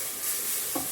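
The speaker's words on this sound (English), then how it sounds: "And you keep stirring." A brief moment of milk being stirred into a macaroni and cheese sauce in a pan: a soft, continuous sizzling hiss with a single spoon scrape near the end, close by.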